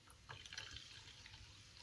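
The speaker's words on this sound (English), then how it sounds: "I'm just going to go ahead and top it off with more water" Water poured into a jar to top it off while making a sensory relaxation jar, a soft close trickle and splash with a few brief brighter pours, faint and alone.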